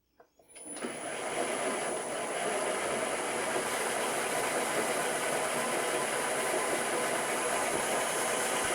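A D-bit grinder starts up and then runs steadily at about 500 RPM, a continuous close mechanical whir with a high-pitched whine that holds constant throughout.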